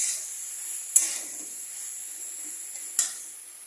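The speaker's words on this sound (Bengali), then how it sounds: "দিয়ে এখন এই মশলার সাথে এটাকে ভালো করে কষাতে হবে" Spices sautéing in a pan for Bengali bandhakopi ghonto, a cabbage dish, give a faint, steady sizzle with two sharp utensil clinks against the pan, alone and fairly quiet.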